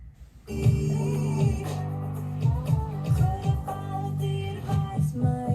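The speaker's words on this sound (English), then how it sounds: "I made like a synth thing that kind of went with it." Bright synth plucks repeat in a loop inside a dense, busy music mix, with bass and other layers driving underneath.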